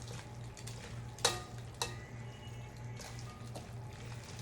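Pasta is stirred in a pot with a soft continuous wet swishing, two sharper utensil knocks against the pot, and a steady low hum underneath, close and moderately quiet with no talk.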